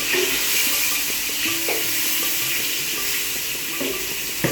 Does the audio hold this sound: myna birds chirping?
no